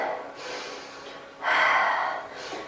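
Slow breathing during a hatha flow yoga class: a soft breath, then a stronger, fuller exhale of about a second, then another lighter breath, close and alone with no talk.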